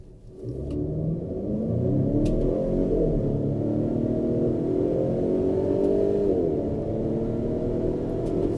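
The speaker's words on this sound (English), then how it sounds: "A 2-liter turbocharged engine, mild hybrid system with the power output that it has." A 2024 Volvo XC40's 2-liter turbocharged mild-hybrid engine rumbles and revs up hard, the pitch climbing through gear changes as it accelerates, heard from inside.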